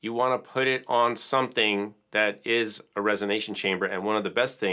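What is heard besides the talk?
None of the usual background noises is heard.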